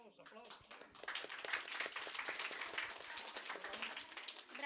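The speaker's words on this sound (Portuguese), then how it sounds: "Aplausos." Applause from a school audience for an author of children's stories, dense steady clapping that swells and holds throughout, with some voices mixed in.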